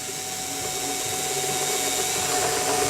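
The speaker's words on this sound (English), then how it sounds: "I'm going to go ahead and I'm going to drill one hole." A power drill bores a hole in a block of wood, giving a steady close whine that holds evenly for a few seconds.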